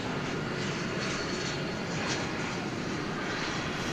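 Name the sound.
Turkish Airlines Boeing 787 Dreamliner jet on runway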